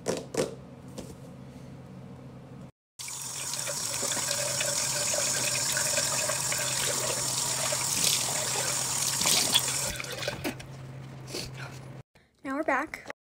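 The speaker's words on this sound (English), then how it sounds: "Now we're going into the bathroom to wash our face." A bathroom tap runs steadily for about nine seconds during face washing, a soft continuous trickle of water, with brief quiet handling sounds and talk before and after.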